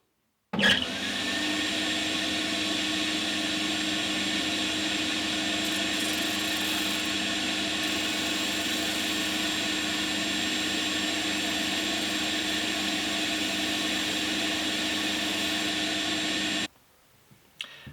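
A drum sander thicknessing the wood for an acoustic guitar's back and sides, a steady loud machine drone that runs unbroken for about sixteen seconds, then stops abruptly.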